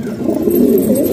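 Fancy pigeons walking about on the ground give a soft, low, rolling coo, close and brief, standing alone.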